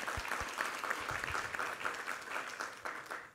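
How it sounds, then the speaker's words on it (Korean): A church congregation at a Sunday worship service claps in unison, a fairly distant, steady roll of applause filling the hall, with a couple of low thumps near the start. "우리 하나님께 감사와 영광의 박수 올려드리겠습니다"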